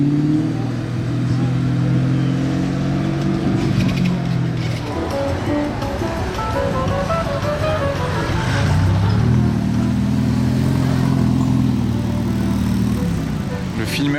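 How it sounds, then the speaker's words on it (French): First-generation Audi R8 with a non-stock exhaust passes loudly, its engine note rising and falling in two strong revving sweeps separated by a quieter stretch, with street noise and a person talking over it. "Fait du bruit cette R8, elle n'est pas d'origine"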